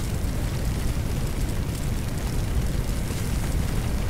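A brush fire from a plane crash in the Firefighter Simulator video game roars steadily, a dense, constant rushing and crackling blaze with no voices over it.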